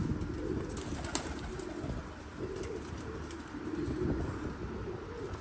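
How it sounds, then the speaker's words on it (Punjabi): Faint, low cooing from an Ideal breed pigeon held in hand, soft and muffled against a steady background hum. "ਪੱਥਰ ਦੀ ਬਾਡੀ ਵਾਲਾ ਕਬੂਤਰ"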